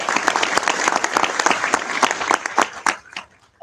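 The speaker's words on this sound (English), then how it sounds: "let's give them a round of applause" Audience applause rings out at a funding summit keynote, a dense, steady clapping from a large crowd that holds for several seconds before thinning out and stopping.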